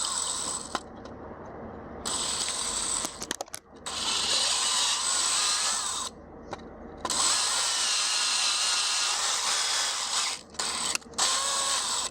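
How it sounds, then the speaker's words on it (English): A power drill bores into an engine valve cover on a 1.4T engine to prepare for a helicoil thread repair, running in several loud sustained whining bursts separated by short pauses. "Drill it in, and then we'll thread in the helicoil."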